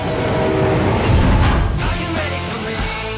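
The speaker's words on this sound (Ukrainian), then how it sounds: "Це ніяк не Божий експрес. То реальний потяг!" A real train rumbling past in a continuous loud roar with rattling and clatter, dense and steady throughout.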